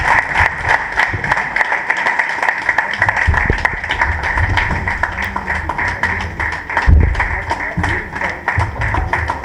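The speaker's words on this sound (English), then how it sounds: "Indeed, I thank you for the standing ovation" A lecture audience at the Just Friends Club of Nigeria annual event gives General Danbasau a standing ovation, with steady, dense clapping from a large crowd sustained for several seconds and a few heavier thumps and taps mixed in.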